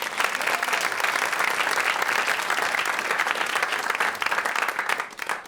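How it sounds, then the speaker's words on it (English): Sustained audience applause at a West Soho show about tabloid journalism, a dense, steady wash of clapping that holds loud for about five seconds before tapering off at the end. "Give yourselves a round of applause for making the trek."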